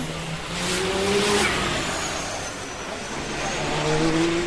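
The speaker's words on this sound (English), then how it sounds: "That was the Audi R18 e-tron Quattro." Audi R18 e-tron Quattro race car engine heard alone as a steady, loud broadband roar that swells and eases over a few seconds, like a car passing at speed.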